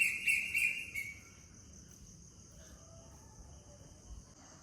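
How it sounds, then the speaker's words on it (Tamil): Two sparrows chirp in a home flower garden with jasmine in the morning, a burst of bright, close twittering at first, then fainter chirps over a soft outdoor hum. "ஏதோ 2 குருவி ஒரே சத்தம் போயிட்டுருக்கு."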